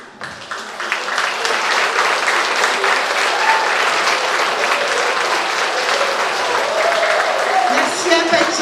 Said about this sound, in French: On peut encore l'applaudir très fort.